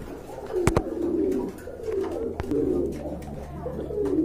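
A pair of feather-footed pigeons coo steadily and close by, with soft rolling calls repeating throughout and a couple of sharp clicks or knocks cutting in.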